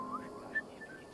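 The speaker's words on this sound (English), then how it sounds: "Who is whistling like that?" A character whistles in the video game Assassin's Creed Valhalla, a thin, faint tune of a few sliding and held notes heard at some distance.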